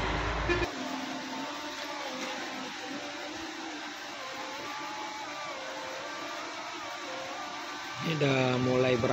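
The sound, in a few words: premium bus departing from parking lot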